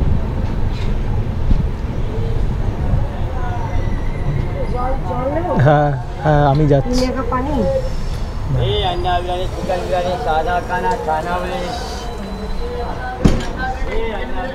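Interior of the 18006 Express between Koraput and Rayagada, a steady rumbling rail roar with clattering wheels and a faint metallic squeal, voices murmuring over the running train.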